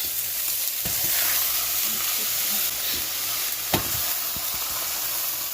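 Meat fries in a hot pan with a continuous loud sizzle and hiss, broken by a few sharp clacks and scrapes of a utensil.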